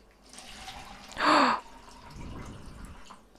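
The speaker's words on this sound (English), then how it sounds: "I'm gonna replace the water with another clean water." Clean water poured into a watercolor painting cup in one short, loud splash lasting under half a second, with quiet room noise around it.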